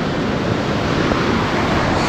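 Chhoie waterfall roars with a dense, steady rush of water, loud and close throughout with no breaks.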